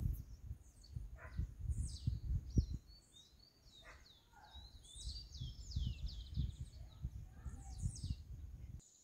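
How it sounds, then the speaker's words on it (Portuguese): A small bird sings bright, quick chirping phrases outdoors at a country spring, fairly faint over low rumbling handling and rustle noise close by. "Passarinho cantando."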